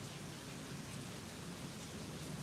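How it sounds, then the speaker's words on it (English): Steady rain falls as a faint, even hiss of dense pattering, continuous and without distinct drops or voices, sitting quietly in the background. "You might be able to hear the rain."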